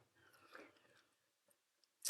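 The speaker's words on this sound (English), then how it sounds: "I can chew this um, like chewing gum." Five-year-old chewing gum being chewed up close, a few soft, wet mastication sounds followed by quiet pauses and a sharper crunchy click at the end.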